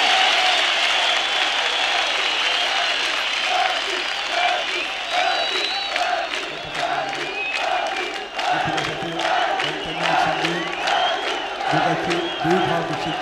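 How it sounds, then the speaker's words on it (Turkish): Sustained applause from a concert audience in Gülhane, honoring a performer as he receives a plaque. The dense clapping stays loud and close throughout, with scattered shouts and voices in the crowd, and low voices grow stronger toward the end. "Alkış, alkış!"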